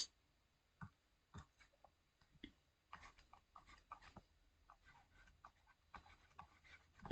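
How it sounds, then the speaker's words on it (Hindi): Handwriting on a board during a current-affairs lesson, marking a map point labelled Gulf of Guinea: faint, scattered scratchy strokes and taps in short bursts over about seven seconds, with near silence between them and no speech. "इसी बिंदु का नाम यहाँ पर मैं लिख देती हूँ।"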